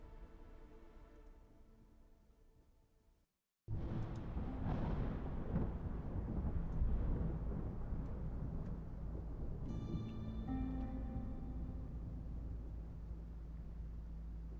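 Storm in the settlement game Against the Storm: after a brief silent gap, a heavy, roaring rumble of wind and thunder swells in and holds loud and steady, with faint tonal game music drifting in later.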